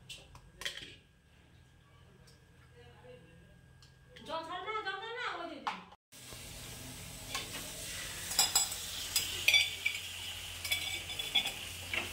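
Food sizzles and is stirred in a pan at breakfast time, with bright crackling frying and scraping that swell up after someone speaks.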